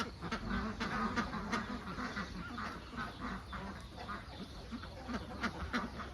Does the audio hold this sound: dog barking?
no